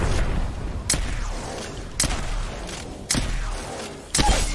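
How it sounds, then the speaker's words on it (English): Gunfire in a ranked first-person shooter match: four sharp shots or short bursts spaced about a second apart, each followed by a ringing decay over a steady low background rumble, with no talk. "I've never had to shoot that many times for someone before."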